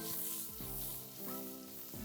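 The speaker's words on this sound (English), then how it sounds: "Cook the onion till nice and soft" Shredded onion fries softly in a pan with garlic and curry leaves, giving a faint, steady sizzle. A few quick stirring scrapes break in now and then, with no speech.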